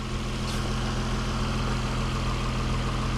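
The 3.5-liter VQ35 engine of a 2011 Nissan Maxima SV idles in a steady, even, low hum with no variation and no voices.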